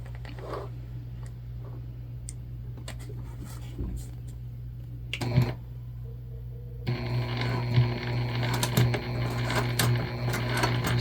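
A sewing machine stitches a seam with piping on a Zora shoulder bag. A steady motor hum runs throughout, and midway a denser, rattling run of stitching starts up close and keeps going.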